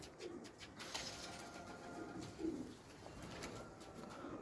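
Pigeons coo softly outdoors during a bird hunt, low throaty calls repeating at an unhurried pace, faint and somewhat distant against a quiet background hiss.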